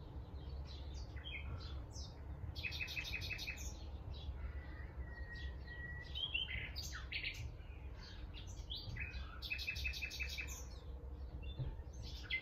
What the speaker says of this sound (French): Profitez du chant des oiseaux.